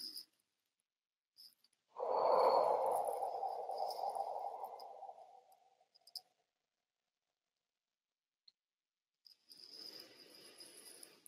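A slow, deep breath in guided meditation, one long soft exhale that fades over several seconds, faint and close in a quiet room, followed by a fainter breath.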